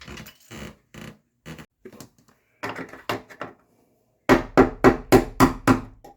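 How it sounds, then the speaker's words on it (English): A hammer strikes a flathead screwdriver to drive a pin out of a door hinge, first as scattered light taps, then as a closer run of six sharp, loud, evenly spaced metallic blows. "Just drive them up with a screwdriver, flathead screwdriver."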